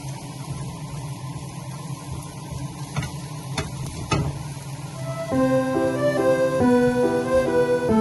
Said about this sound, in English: fry it until there's a little bit of crust, or whatever you call it, in the bottom of the eggs